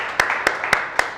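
Four evenly spaced claps in a classroom, sharp and fairly close, ringing slightly in the room over a low background murmur.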